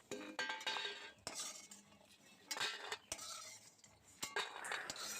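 Fried lentil bori being lifted from a kadai with a metal utensil, irregular scrapes, clinks and knocks against the pan in short bursts, fairly quiet and close.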